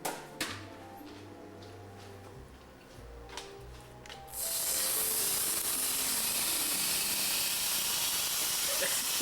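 A steak goes into a hot pan: after a few seconds of quiet, low rumbling, a sudden loud, steady sizzle takes over and holds to the end.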